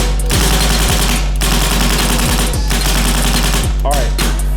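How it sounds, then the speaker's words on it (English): Empire SYX paintball gun firing, a handful of sharp separate shots at an irregular pace over steady loud background noise. "We're gonna shoot the SYX first, then we're gonna shoot the Vanquish."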